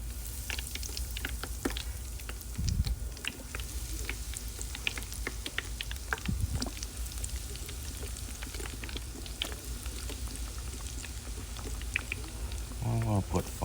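Onion rings deep-frying in hot oil, a constant crackling, bubbling sizzle close up with scattered pops, under intermittent talk; a fresh burst of bubbling near the end as more rings go in.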